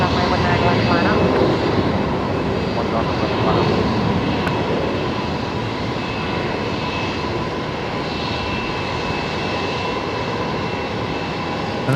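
A Boeing 737 Max 8 jet at Brisbane Airport gives off a steady, loud engine roar that fades slightly over time, with an airband radio voice faintly heard.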